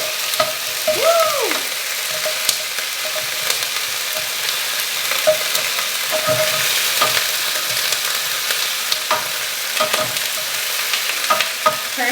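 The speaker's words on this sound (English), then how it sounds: "That is super hot and they're super sizzling." Chiles sizzle steadily in hot oil, a constant crackling hiss with occasional pops and light stirring sounds.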